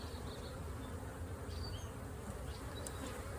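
Honeybees buzz around an open beehive during a hive inspection after a suspected swarm, a steady, fairly soft drone of many insects with a few louder individual passes close by.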